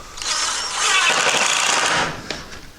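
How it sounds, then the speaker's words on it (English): A power driver sends screws into the metal collar ties of a metal shed. A close, loud, continuous high whirring lasts about two seconds, then gives way to a couple of light metallic taps. "So what we're gonna do is just screw these in."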